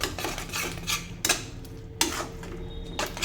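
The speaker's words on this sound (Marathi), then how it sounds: "आता हे 1 मिनिटासाठी छान परतून घेऊया" A soybean, tomato, mint and yogurt pulao mixture is sautéed in a pan, with a spoon scraping and clinking against the metal in a few distinct strokes over a soft continuous sizzle, close up.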